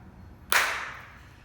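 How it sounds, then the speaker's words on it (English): One sharp, short burst of group clapping at a maker studio vinyl-cutting class, sudden and then fading quickly in a quiet room. "We'll give it a clap."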